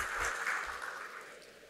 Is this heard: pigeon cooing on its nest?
no